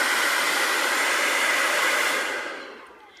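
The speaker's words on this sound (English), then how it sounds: "So we're going to be using this to blow dry Colleen's hair" A handheld hair dryer with a cool-shot button, used to blow-dry hair, heard close as a steady loud airy rush that fades away near the end, with no talking.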